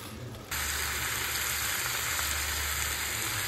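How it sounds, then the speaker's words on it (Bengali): Mutton pieces frying in spiced oil for mutton kasha, a dense loud hiss that swells suddenly after a quieter start and holds steady and close throughout. "মাটনটা দিয়ে এবার আমি আবার আধ ঘন্টা ধরে ভালোভাবে কষিয়ে নেব"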